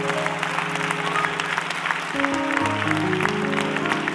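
Congregation applauding in a church service, steady dense hand clapping throughout with organ or keyboard chords sustained underneath, fairly loud and continuous.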